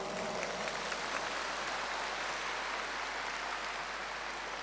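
A hall audience at a Buddhist Dharma Q&A gathering in Singapore claps in a soft, continuous patter that sounds distant and faint, steady from start to finish with no talking.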